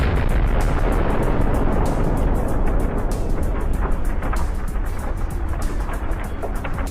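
Tank ammunition detonating into a fireball after a kamikaze drone strike on a battlefield, heard as a sustained, loud, dense roaring rumble with crackling, steady for the full length with no voices.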